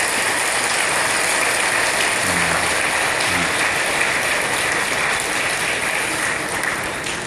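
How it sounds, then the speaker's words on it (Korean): Loud, continuous applause from a church congregation during a service, a dense even clatter of many hands that runs the whole length with no speech. "박수 해줘요"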